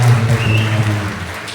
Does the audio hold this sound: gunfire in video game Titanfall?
no